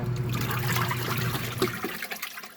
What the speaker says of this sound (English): I'm kind of surprised at how well this agitates in here.